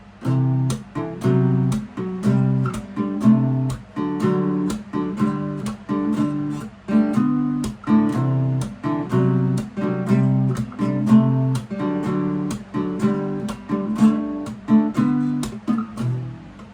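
A guitar plays a repeating two-bar song loop of strummed and picked chords in a steady rhythm, close and clear with no talking, for about seventeen seconds.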